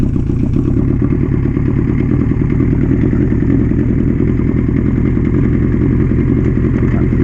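A Yamaha Fazer 600 motorcycle engine runs close by, loud and steady with a rough, throbbing low rumble and some mechanical clatter. It holds at a constant idle-like pace without a clear rev.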